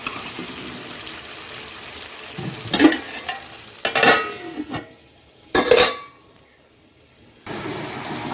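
Potatoes with turmeric sizzle in a hot pan, with several louder bursts of frying and stirring scrapes rising over a steady crackle, no voices.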